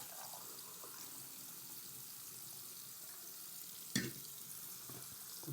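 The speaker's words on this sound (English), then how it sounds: "I'm going to pour my stopper in real quick." Stop bath chemical pours into a film developing tank at home, a soft steady trickle of liquid at low level, then a sharp knock near the end as the pour finishes.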